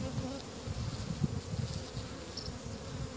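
Honeybees hum around an opened beehive during an April inspection, a close, low, steady buzz with small wavering swells from individual bees.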